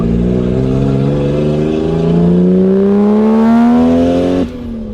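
Lexus car with a 1JZ engine accelerates on its first drive, the engine note climbing steadily and loudly through the revs before a sudden drop as a gear changes near the end.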